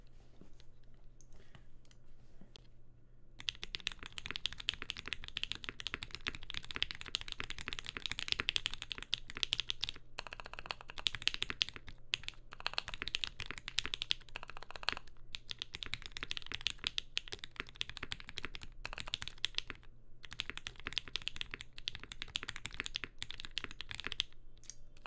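Rapid clacking keystrokes on a Mode Eighty TKL mechanical keyboard run nearly nonstop for about twenty-five seconds, close and crisp, with a few brief pauses and no talking.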